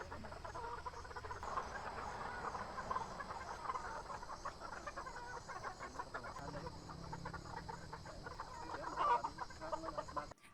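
Young roosters tethered in the cording area of a gamefowl farm cluck and call softly at a distance, mixed with steady crickets, insects and frogs in an open outdoor setting, with no talk.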